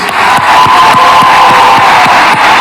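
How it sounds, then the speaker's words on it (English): Crowd at a Florida youth-protection event led by the First Lady claps and cheers loudly, a dense roar of whoops and shouts with rhythmic clapping beneath, close and sustained throughout. "Clap it up for him one more time, please."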